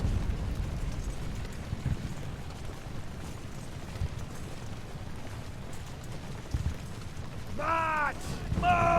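Deep, rolling artillery booms from the naval-era battle game Ultimate Admiral: Age of Sail, a continuous low rumble of cannon fire with a shouted voice breaking in near the end.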